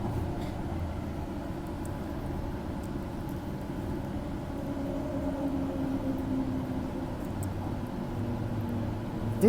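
A Claremont-line train enters a platform at Perth station, a low steady rumble and hum with faint squeals, heard from a distance amid station ambience and no voices.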